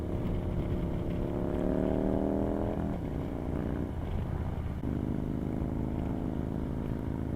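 A loud Harley Sportster riding just ahead rumbles with a deep, steady engine drone, its pitch rising and then dropping as it shifts, heard from another motorcycle on the road with constant wind and engine noise.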